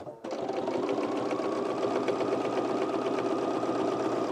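A sewing machine stitches an oversized blazer, set to needle position 3 and a 3.5 stitch length, running steadily and close after a brief start, with no talk over it.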